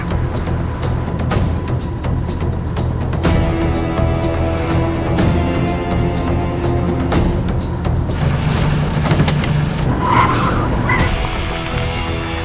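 A car drives hard and skids, with a loud, sustained roar of engine and squealing tires that continues throughout at close range, suggesting a fast chase.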